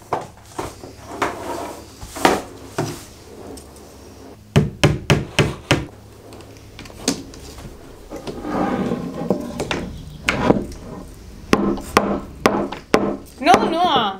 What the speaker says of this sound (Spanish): Y ahora de aquí hay que coger el martillo.